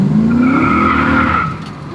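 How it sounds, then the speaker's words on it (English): A V8 Mach 1 fastback Mustang spinning its tires, a loud close squeal with rising engine roar that holds steady and then fades. "She loves to spin the tires."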